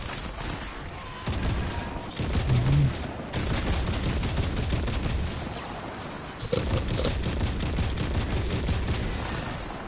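Rapid bursts of gunfire crackle continuously, loud and dense, with brief pauses between volleys and no talking.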